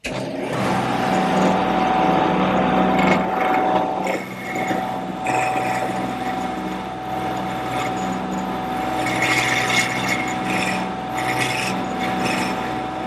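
A power cutter fitted with a triangular cutter carves details into a wooden table leg for a harvest table, a loud continuous rasping whir with a steady tone and slight shifts in pitch as the cut goes on.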